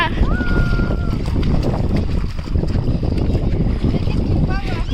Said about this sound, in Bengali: এমন হাওয়া, এখানে এত হাওয়া।